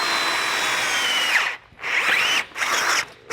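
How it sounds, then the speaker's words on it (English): A power drill bores holes into a golf cart frame, its loud whine running steadily, then stopping and restarting in short bursts near the end. "now we can just run the bit, and that allows us to locate the bottom there"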